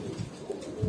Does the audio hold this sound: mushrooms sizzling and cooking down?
no